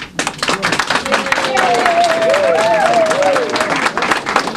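Audience applause at a city budget meeting, a sustained wash of clapping that fills the room for several seconds, fairly loud and steady with a few voices mixed in.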